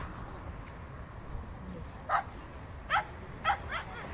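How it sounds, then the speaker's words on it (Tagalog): A few short barks and yips from stray dogs on a street in the Philippines ring out at a distance, spaced unevenly over a faint background hum. "marami po silang aso kasi po ang ilan po sa kanila mga nililigaw dito"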